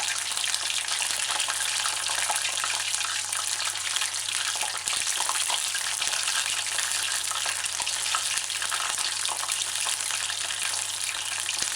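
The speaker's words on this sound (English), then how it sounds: "chicken wings, deep frying." Constant, even sizzling and crackling of chicken wings deep frying in hot oil, close up, unbroken throughout with a low steady hum underneath.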